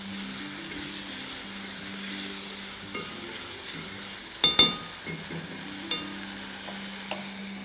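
Potatoes sauté lightly in a pan with onion, garlic and spices, giving a soft, quiet sizzle with a low steady hum beneath and a few sharp utensil knocks and scrapes in the middle. No voices.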